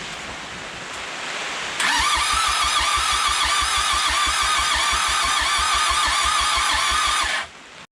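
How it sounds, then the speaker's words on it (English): A Mitsubishi 4D55 turbo diesel engine cranks steadily for about six seconds without catching, a rapid, even starter rhythm with a loud mechanical whir, then stops abruptly. "Now I'm just gonna crank it over and kind of bleed the injectors here."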